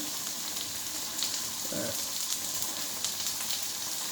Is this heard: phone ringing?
no